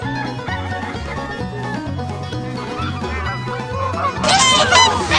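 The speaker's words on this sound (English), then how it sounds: "This is a gander." A male goose, a gander, gives a short burst of loud honking near the end, over a steady background of music.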